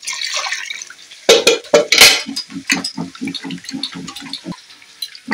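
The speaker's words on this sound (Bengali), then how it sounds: "মাংসটাকে আমি এইভাবে ধুয়ে নেব।" Raw meat being rinsed in a pot of water for biryani, with a running tap, splashing and a steady run of close wet sloshes and drips against metal, no talk.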